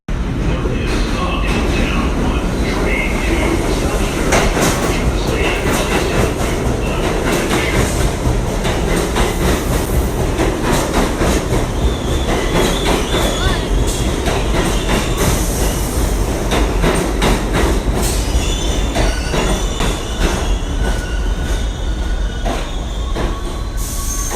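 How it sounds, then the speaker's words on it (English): A New York subway train roars past loudly and continuously, with rattling wheels, screeching squeals and clacking over the whole stretch, and voices faintly mixed in. "So here's the train."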